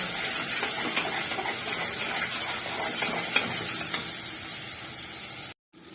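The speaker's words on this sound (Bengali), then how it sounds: "দিয়ে আবার একটু ভালো করে কষিয়ে নেব" Spiced potatoes for aloo dum sizzle in a pan with chilli powder and salt, the steady frying hiss broken by scraping and stirring strokes of a spatula, close and continuous, before a brief cut to silence near the end.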